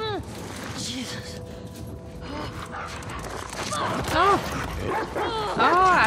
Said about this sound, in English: Oh, Abby has a dog